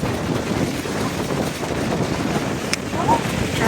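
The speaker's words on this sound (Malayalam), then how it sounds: "ഇവിടെ കാറ്റ് കൂടി." Strong wind buffets an outdoor microphone in Malta, a steady broadband roar with gusty swells throughout, fairly loud, with no clear voices.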